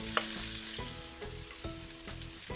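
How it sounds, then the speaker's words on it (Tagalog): Chayote and carrot are stir-fried in hot oil over high flame. A steady loud sizzle runs throughout, with regular scraping strokes of the spatula against the pan, close up and with no talking. "stir fry lang muna natin yung gulay natin."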